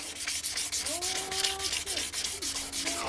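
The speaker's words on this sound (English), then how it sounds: "this Portuguese sandpaper is really good" Rhythmic back-and-forth strokes of Portuguese sandpaper rubbing over a painted Honda NS250R motorcycle part during restoration, close and steady, with faint voices in the background.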